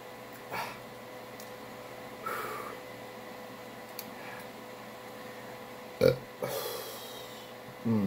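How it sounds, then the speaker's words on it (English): After drinking water, a person lets out several short burps spaced across the stretch, each a brief rough burst over a constant low room hum and faint ticking. "Burping from water actually feels really good, though."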